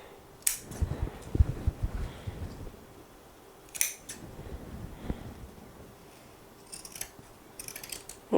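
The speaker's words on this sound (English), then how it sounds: "I'm just going to trim this little piece here too" Scissors snip at fabric during sewing of a dress bodice, a few quiet crisp cuts spaced apart with soft handling rustle between them, close and alone.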